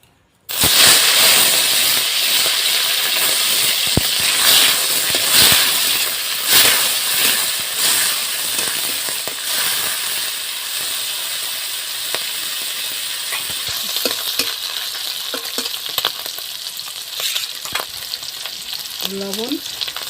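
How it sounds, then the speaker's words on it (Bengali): Prawns frying in hot oil in a wok, a loud close hissing sizzle that runs throughout with occasional stirring scrapes, no talk. "কড়াইতে দিয়ে দিয়েছি তেল। এবার আমি চিংড়ি মাছটা ভেজে নেব।"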